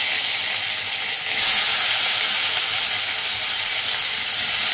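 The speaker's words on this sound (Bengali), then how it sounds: "তেল গরম হয়ে গেছে, এরপর এর মধ্যে কেটে রাখা টমেটোগুলো দিয়ে দেবো।" Chopped tomatoes hit hot oil in a wok with a sudden loud burst of sizzling hiss, settling into a steady, close frying crackle that fills the rest of the moment with no talking.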